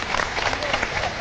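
Audience applause at an RTI audiovisual season launch event, dense and continuous clapping from a crowd, fairly close and steady throughout.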